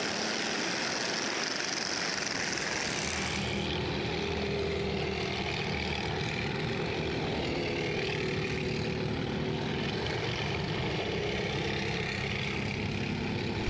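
Speedway motorcycles racing in an Elite League heat, a continuous, loud, rough engine roar that holds steady throughout with no clear breaks.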